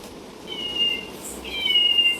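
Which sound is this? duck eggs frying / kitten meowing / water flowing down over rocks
kitten meowing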